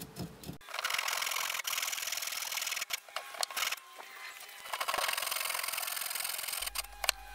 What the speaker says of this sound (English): Saw the trench very carefully at both ends.